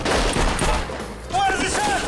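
Heavy gunfire and rocket fire during a night hostage-rescue raid at an airport terminal, a dense, continuous crackle of shots and blasts, loud and close, with voices shouting over it.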